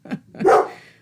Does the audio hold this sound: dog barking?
yes